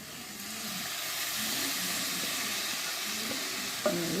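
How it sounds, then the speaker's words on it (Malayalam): Cleaned beef tripe (potty) going into a hot pan with curry leaves sets off a steady hissing sizzle with soft stirring scrapes underneath and a brief clatter near the end, no voices. "ഇനി നമ്മൾ ചെയ്ത് വെച്ചിരിക്കുന്ന പോട്ടി ഇട്ട് കൊടുക്കാം."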